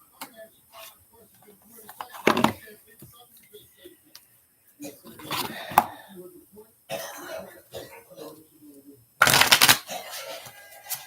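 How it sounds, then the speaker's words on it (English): A deck of oracle cards is shuffled in a quiet room with short, crisp riffling bursts separated by pauses, plus small handling clicks and an occasional throat-clear or cough between them. "you'll see me shuffle 3 times and then I'm ready to do the cards"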